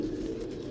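A Gutt breed pigeon gives a soft, low coo, close and brief, continuous over a faint background.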